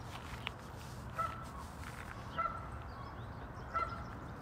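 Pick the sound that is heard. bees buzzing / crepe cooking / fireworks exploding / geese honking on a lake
geese honking on a lake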